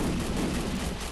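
Video game gunfire during a crowded multiplayer shootout, heard as a dense, continuous roar of overlapping shots and blasts that stays loud throughout with no clear pauses.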